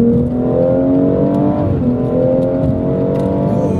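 A BMW M240i pulls hard in third gear on a straight road, its engine note climbing steadily in a loud, continuous rising drone, dipping briefly as it shifts before rising again.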